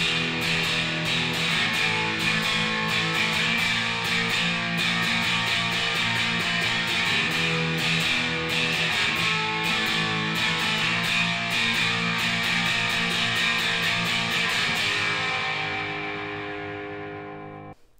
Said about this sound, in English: So the chorus all the way through sounds like this.